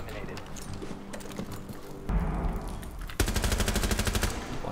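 Rapid automatic gunfire in a Counter-Strike-style shooter, loud bursts of shots fired through a wall, with a short pause and then a denser, sharper second burst; players talk over it.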